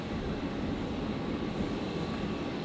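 A Nauru Airlines Boeing 737 at Brisbane airport produces a steady, broad engine roar at moderate distance, holding even and continuous with no speech over it.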